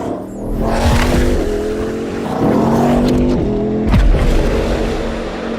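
High-performance cars race around a track, engines revving loudly and shifting through gears as they pass close by, with rising and falling pitch and a faint squeal of tyres.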